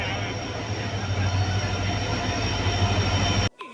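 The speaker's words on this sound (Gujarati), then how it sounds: "આપણે રેલવે સ્ટેશન આવી ગયા છે" A train pulls into a railway station with a steady, loud low rumble and a constant high whine from the cars and wheels, ending abruptly near the end.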